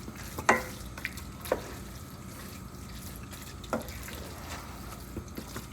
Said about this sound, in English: We're gonna stir it all up.